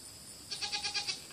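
A newborn Nigerian Dwarf goat kid gives a quick run of about six soft, high bleats close by, faint and alone in a quiet setting.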